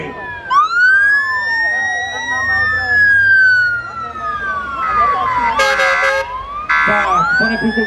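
Fire engine sirens arriving at a firefighters' show at an exhibition ground in Kroměříž, loud wailing tones sweeping up and down with several sirens overlapping and bursts of horn blasts, close and continuous.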